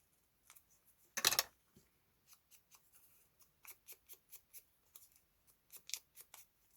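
Scissors snip close by during paper crafting for a pocket project, one loud cut followed by a steady series of short, evenly spaced snips, with no talking.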